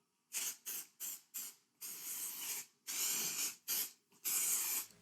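An aerosol mold release can hisses in a series of short bursts into an epoxy coaster mold, some quick and some held longer, close and fairly quiet with no talking.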